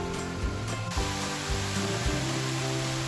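A 72-foot ribbon-style waterfall in a small Hamilton conservation area pours steadily, a dense continuous roar with a low rumbling undertone and no pauses.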